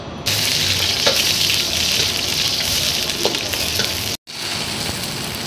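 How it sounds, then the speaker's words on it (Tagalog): Aromatics sautéing in a pan for a fish soup, a steady close sizzle and hiss with faint clinks of stirring, briefly dropping out before the frying resumes. "Prepare na tayo sa paggisa mga kabady."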